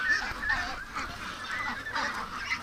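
Ducks at a pen give repeated raspy honking quacks in an irregular series, close and moderately loud, several birds calling over one another with no speech.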